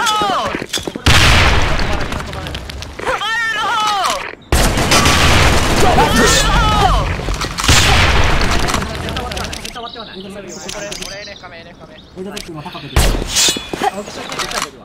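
Grenade explosions and bursts of gunfire in a video game, loud booming blasts and rattling shots recurring across the clip, with game voices and chirpy electronic sounds in between.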